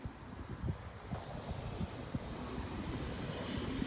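A train rumbles at the station in Lausanne, Switzerland, a low, steady rolling noise with faint clanks, heard quietly at a distance with some wind on the microphone.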